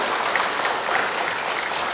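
Loud, sustained applause comes from an audience at an Ambedkar commemoration event honouring a couple, a dense and even wall of clapping with no pauses.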